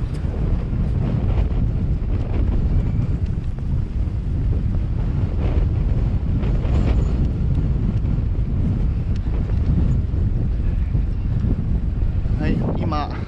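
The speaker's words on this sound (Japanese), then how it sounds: "ちょっと風が強いんでね今日" Strong wind buffets the microphone in Dubrovnik, a loud, continuous low roar and rumble lasting throughout while someone speaks beneath it.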